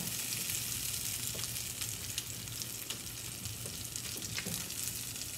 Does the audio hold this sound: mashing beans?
yes